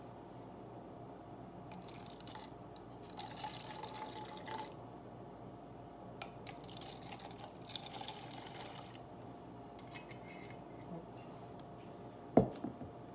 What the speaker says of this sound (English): I'm going to go ahead and pour in some of my strawberry puckers